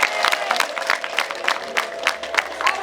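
Crowd at a political rally in Musanze clapping and cheering, a dense run of quick, uneven claps that swell in bursts, fairly close and filling the whole stretch without talk over it.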